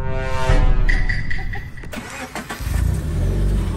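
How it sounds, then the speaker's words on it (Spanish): A car with a loud aftermarket exhaust starts up nearby and revs, its engine rumbling and climbing in pitch before settling and surging again. The sound is heavy and continuous, with no talking. "¡Qué escape más legal!"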